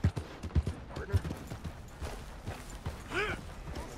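Horse hooves clip-clopping at a walk in the Red Dead Redemption 2 video game, several soft, uneven steps over a quiet background, with brief in-game sounds near the end.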